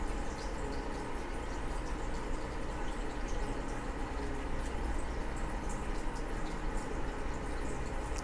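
Water pours and gurgles steadily into an aquarium as Farlowella juvenile catfish are released into an Amazonian 40 breeder tank, a continuous close splashing wash with no pauses.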